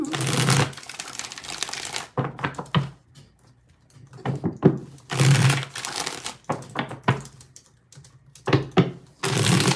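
Tarot cards are shuffled by hand in several crisp riffling bursts with short pauses between them, close and fairly loud, with light handling noise in the gaps.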